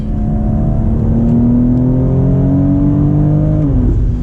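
A BMW X3M Competition with torque-converter automatic and all-wheel drive accelerates hard, its engine note climbing steadily and loud and close, then dipping briefly at a shift near the end, with no talking.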